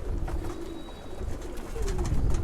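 Pigeons in a pigeon house give soft, repeated low coos over a steady background hum, the calls rising and falling close by with no talking.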